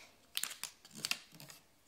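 Origami paper being creased while folding a boat, a few soft, close crinkles and sharp paper rustles in short bursts, faint and quiet overall.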